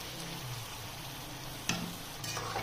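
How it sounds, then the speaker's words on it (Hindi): Chicken frying in spices in a pot for chicken pulao, a continuous close sizzle with a sharp utensil knock partway through and a brief burst of stirring near the end. "मसालों में इसको अच्छी तरह फ्राई कर लेंगे।"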